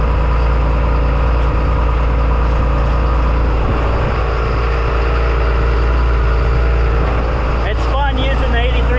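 A John Deere 8300 tractor engine runs steadily at close range with a loud, constant low drone and a hum that does not change, while someone talks over it.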